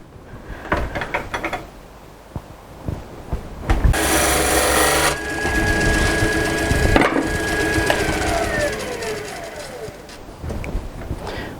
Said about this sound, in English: so we're going to make a tenon that's about that size.